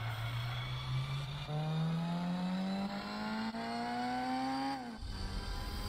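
A simulated Toyota TRD Celica engine in Gran Turismo 4 revs hard and climbs steadily in pitch to its redline, then drops sharply as the gear changes, loud and close.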